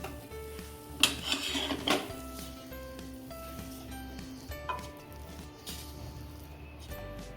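A spoon scrapes and stirs a sticky desiccated-coconut modak mixture in a steel pot, producing a few sharp metallic scrapes early on and then softer, intermittent scraping and clinks over a low steady hum.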